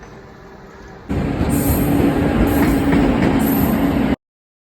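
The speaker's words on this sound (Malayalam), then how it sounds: "നമുക്ക് പോകാനുള്ള ട്രെയിൻ അതാ വരുന്നു" A train pulling into a railway station, a loud, close rumble of wheels and carriages with rhythmic clatter that starts abruptly and holds steady for about three seconds before cutting off.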